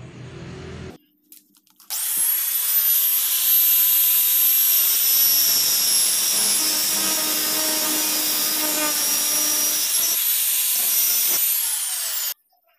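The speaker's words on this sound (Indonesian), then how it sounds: "Kita potong menggunakan gerinda Kang Bro" An angle grinder cuts through the threaded end of a used spark plug with a loud, steady, high whine that lasts about ten seconds. The motor spins up sharply at the start and cuts off at the end, with no talk over it.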